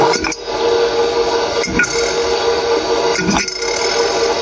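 The beater of a refurbished 6-quart bowl-lift KitchenAid stand mixer, running on stir speed, clinks sharply against a dime lying in the bowl a few times over a steady motor hum. No voices are heard.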